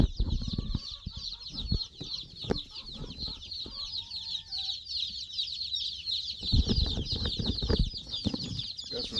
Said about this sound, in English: Got some nosy chickens.